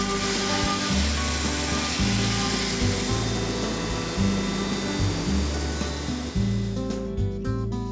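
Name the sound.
CNC mill machining aluminum marking gauges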